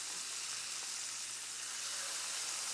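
Beef filets sear in butter in a hot pan, producing a continuous, even hiss of frying with no voices over it.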